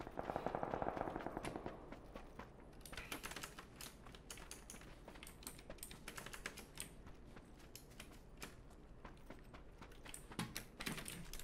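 Gunfire in the battle-royale shooter PUBG, heard as a dense run of sharp, rapid shots and bursts throughout, loudest at the start and fairly steady after, with a clicky mechanical edge and no talk.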